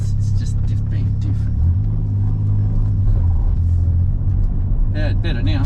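A Suzuki Cappuccino with a noisy rear differential drives along, its low steady rumble and road noise close and constant, with voices talking over it throughout.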